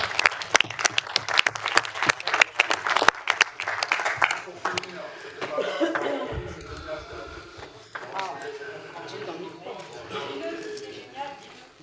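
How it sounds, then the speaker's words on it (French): Applause in a municipal council meeting: a burst of sharp, scattered hand claps from a small group that thins out, followed by people talking. "Je vous propose d'applaudir Caroline Navarre."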